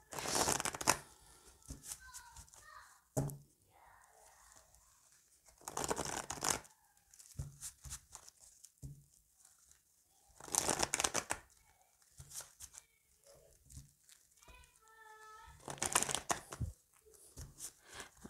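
A deck of playing cards split into two piles and riffle-shuffled, giving bursts of crisp flapping riffles that rise and fade at intervals. Someone talks between the shuffles and children can be heard in the background.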